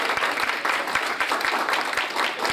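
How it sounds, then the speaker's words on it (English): An audience at a legislative meeting claps in warm, dense applause, a steady patter of many hands filling the room from start to finish, with no break and little else mixed in. "let's give her a round of applause."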